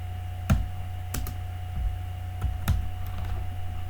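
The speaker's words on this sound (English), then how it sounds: "let's try to type this together" Sparse computer keyboard keystrokes as code is typed, a handful of separate clicks spread out at an unhurried pace over a low steady hum, with no talking.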